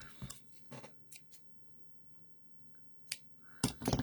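A few sharp, quiet snips of scissors cutting card for a Christmas card, spaced irregularly with silence between, ending in a quick cluster of cuts.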